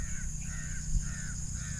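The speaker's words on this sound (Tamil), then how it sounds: "இயற்கையாக சுற்றி திரிகிற பறவை" Crows cawing repeatedly in open countryside at the site of a planned green airport in Parandur, a steady series of harsh caws over a low, constant background rumble.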